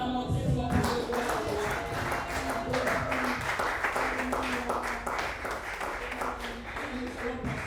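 Church congregation applauding and cheering during a Friday night worship service, a steady dense wash of clapping and voices held at an even level throughout.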